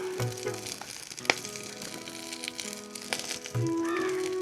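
Three whole green chilies, coriander and chopped onion sizzle in hot oil with spices, a close, crackling fry with sharp pops, stirring clatter and a louder hiss near the end.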